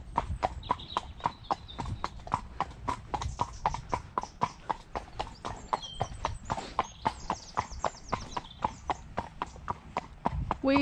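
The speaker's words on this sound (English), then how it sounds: "This horse is being crazy today, aren't you?" Horse hooves clip-clop at a steady walking rhythm on a hard lane during a tackless hack, the close, regular beats continuing throughout with a light rustle underneath.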